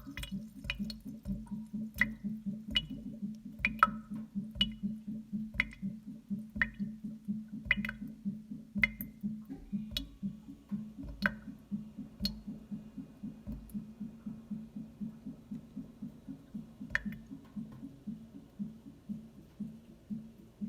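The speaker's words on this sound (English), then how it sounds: "is that a real sound of a drip?" A recording of water dripping plays from a phone speaker, a steady series of soft, regular drips over a low background hum, repeating evenly throughout at a quiet level with no talk.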